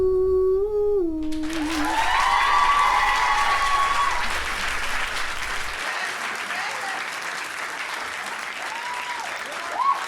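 A concert crowd applauds and cheers loudly, a sustained roar of clapping and shouting that swells early and then slowly fades, with brief whistle-like tones at the start.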